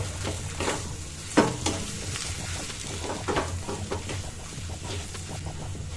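Boiled potato is stirred into an egg mixture in a bowl for Kolkata-style egg kabiraji, giving soft, irregular squelching and scraping strokes at close range with no talking.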